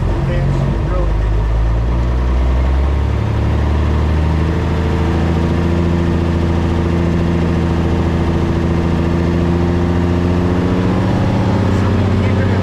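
A Honda car engine runs steadily in low gear, a loud continuous mid-pitched drone with shifting harmonic tones as the revs change, near and constant throughout.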